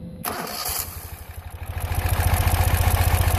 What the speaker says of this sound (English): Now we'll start up the vehicle.